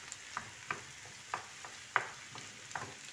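Chicken breast frying in a pan with peppers and onions, a steady low sizzle broken by a regular series of sharp utensil scrapes and taps as the mix is stirred, close and fairly quiet with no voices.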